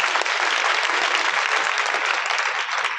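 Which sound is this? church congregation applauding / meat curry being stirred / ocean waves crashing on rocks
church congregation applauding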